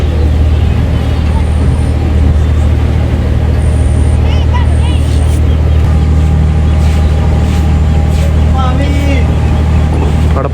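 A slow passenger boat travels down the Amazon River in Peru. Its engine gives a loud, steady low drone that runs without a break, with faint clatter and scattered voices in the background.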